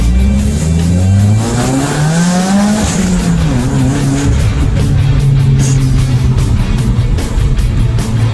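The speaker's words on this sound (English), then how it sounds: "I'll rev at the bad neighbor." Tuned 2017 Subaru WRX engine revving hard close by, loud rising and falling engine tone sweeping up and settling into a sustained roar, no talk.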